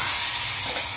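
A hot tempering of oil with turmeric and asafoetida is poured onto chutney, giving a loud, brief sizzling hiss that fills the whole moment up close.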